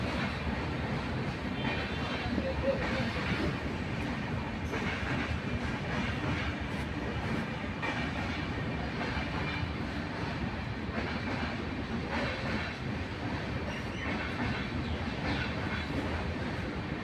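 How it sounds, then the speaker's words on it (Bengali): The North East Express rolls past as a continuous, moderately faint rumble of rail wagons with soft clickety-clack from the wheels, steady for the whole stretch. "নর্থ ইস্ট এক্সপ্রেস দিল্লির পর আইছে"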